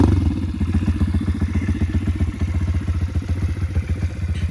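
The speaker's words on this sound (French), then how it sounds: "Je vous laisse écouter cette magnifique moto." A warm Rfz 150cc dirt bike engine runs at idle close by, a loud, rhythmic, chugging putter that stays steady throughout.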